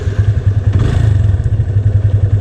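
Motorcycle engine running close by in a steady, rapid low thumping rhythm with light mechanical clatter, loud and without speech.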